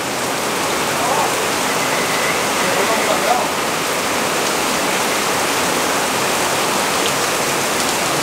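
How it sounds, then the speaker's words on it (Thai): Heavy rain pours down outdoors as a dense, unbroken roar of water with no pauses, loud and close throughout, with no voices on top of it. "โอ้ฝนตกหนักมากเลย"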